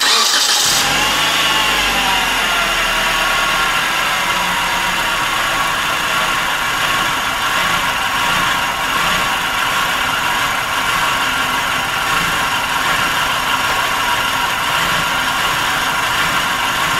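A 1997 Nissan Altima four-cylinder engine with a misfire on cylinder four, starting up with a brief crank and then running steadily at a loud, close idle for the rest of the stretch, with no talking.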